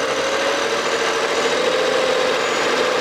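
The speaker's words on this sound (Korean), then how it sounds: "악셀 한번 한 2000rpm만 밟아줘봐." A BMW 535i 5 Series GT engine, low on oil pressure, is held close and loud at about 2000 rpm, its hum holding one constant tone throughout with no voices.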